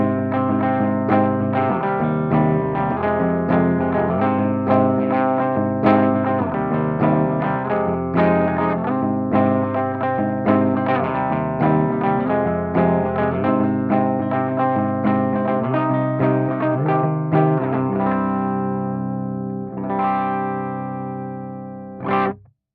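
Electric guitar played straight into an Orange power amp pedal and cabinet, with a flat, dull, lifeless clean tone. Continuous strummed chords and single notes ring for about twenty seconds, fairly loud, with no talking.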